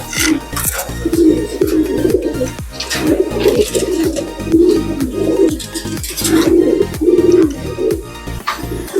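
Pigeons in a breeding loft give repeated deep, rolling coos, several birds overlapping in a steady rhythm, close and fairly loud.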